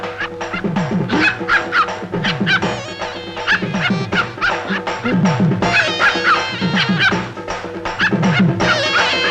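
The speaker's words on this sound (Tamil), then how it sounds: "இன்னையில இருந்து நாயை அவுத்து விடு." A dog barks and yips repeatedly in loud, rapid bursts, with some whimpering and voices mixed in around the barking.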